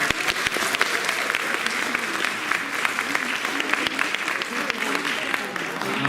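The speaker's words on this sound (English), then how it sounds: "Can we get a round of applause for all those videos?" Applause from a school film festival audience of families and students after third grade videos are shown, steady and fairly loud clapping with crowd noise and scattered voices mixed in.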